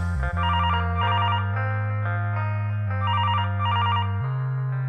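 Telephone bell ringing in repeated electronic bursts over a steady bass-heavy hip hop beat, several rings spread across the passage, loud and upfront in the mix.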